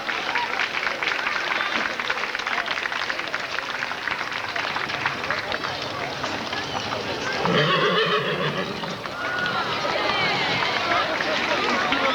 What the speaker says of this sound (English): He's driving a pretty Percheron horse, pulling an old-fashioned spring wagon